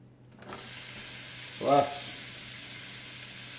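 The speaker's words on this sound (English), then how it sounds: "Okay, so that olive oil is nice and hot. First thing, let's get in some of these onions." Onions go into hot olive oil in a pan, part of a big batch of food for dehydrating, and give a soft, steady frying sizzle with a brief clatter as they land.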